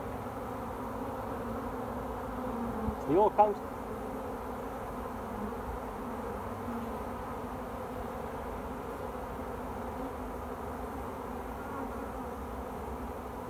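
Honeybees drone around open hive frames in a steady, close, continuous buzz, with a brief spoken phrase partway through.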